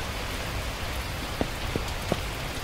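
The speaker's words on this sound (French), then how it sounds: "Oh mais il pleut toujours." Steady rain falling in the survival game The Last Plague: Blight, a dense even patter with a few louder drops standing out, no voices.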